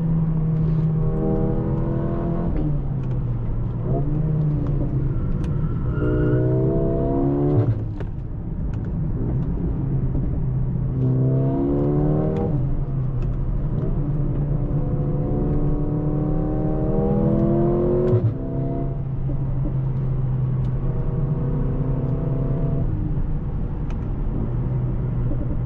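A car's engine labours uphill on a hill climb, revving up and down through gear changes with small exhaust pops crackling between pulls, heard steadily from close by without talk.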